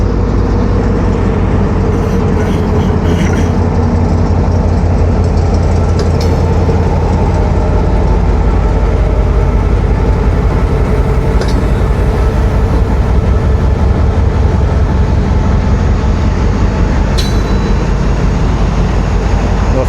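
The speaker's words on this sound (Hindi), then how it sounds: "रेक आ गया खुशहाल खान खटक एक्सप्रेस का, वॉशिंग लाइन से" A Khushhal Khan Khattak Express train rake being placed at a platform from the washing line, a steady low rumble of heavy rolling stock with a continuous engine drone, loud and close throughout, with no talk.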